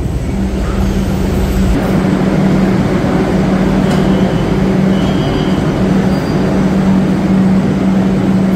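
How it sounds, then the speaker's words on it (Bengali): A Kolkata Metro train pulls into the station at Dum Dum with a steady, loud rumble and a sustained low drone that holds throughout, with no voices over it. "এই আমাদেরও ট্রেন চলে এসছে।"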